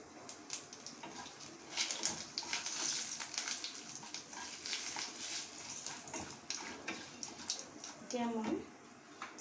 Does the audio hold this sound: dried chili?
yes